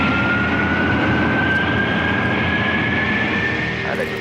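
Concorde supersonic airliner climbing out after takeoff from London Heathrow, a loud, sustained engine roar with a steady whine running through it, unbroken and without speech.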